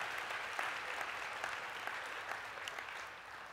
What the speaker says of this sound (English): Come on, give the Lord a hand clap.